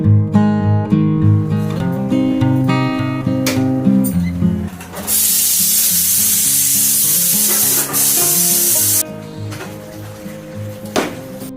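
Steam from a kitchen pressure cooker cooling under a running tap makes a steady loud hiss and water rush lasting several seconds over background music, with clatter before and after.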